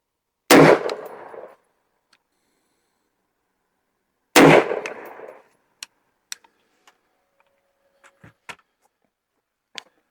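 Two loud, sharp gunshots ring out outdoors while a red dot sight is sighted in, spaced a few seconds apart, each followed by a brief decaying echo. Faint scattered clicks and ticks come after them.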